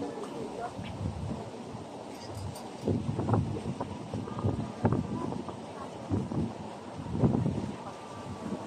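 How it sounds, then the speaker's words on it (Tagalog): Gusty wind buffets the microphone high up on a windmill farm in Quezon, low rumbling blasts rising and falling in waves, with a person talking intermittently underneath. "Talagang hangin-hangin."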